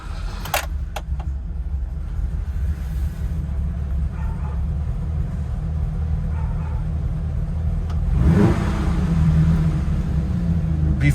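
A 1974 BMW E9 with a suspected fault: keys jingle near the start over a low, steady engine rumble, then toward the end a louder surge as the engine is cranked or revved, growing fuller and rougher.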